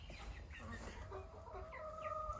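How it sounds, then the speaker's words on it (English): Small young chickens, including Silkie chickens, clucking and peeping softly at a low level in a backyard coop, several short calls overlapping with faint background noise. "These little chickens are not roosting yet."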